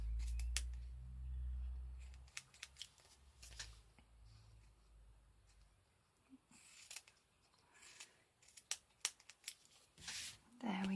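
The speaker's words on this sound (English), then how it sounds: "Let's just trim these little bits off here." Scissors trim small bits of paper ephemera for a journal, making faint, close snips and papery rustles that come irregularly over a quiet background, with a brief low thump near the start.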